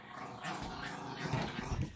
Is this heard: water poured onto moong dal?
no